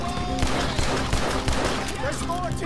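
A dense, sustained barrage of gunfire in the Wild West game Red Dead Redemption 2 fills the scene loudly, with overlapping shots mixed with talk.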